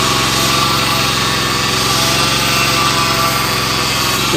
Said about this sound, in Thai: ได้ทดสอบใบมีดของเครื่องตัดหญ้าค่ะ ทั้งสามหัวตัดเลยค่ะ